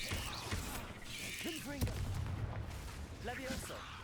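A Confringo explosive spell in the Hogwarts Legacy video game hits with sharp, booming impacts over crackling game effects, with a voice heard faintly in between.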